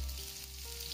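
Onions sizzle in a hot wok while being stir-fried for a dish of hairy gourd, bean vermicelli and dried shrimp, giving a steady close frying hiss.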